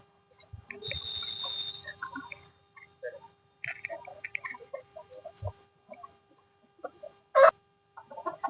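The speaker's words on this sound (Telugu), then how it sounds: "వావ్, చాలా బాగున్నాయి కదా కోళ్లు" Country chickens cluck and cackle in scattered short bursts across the yard, with one sharp louder call near the end and quiet gaps between.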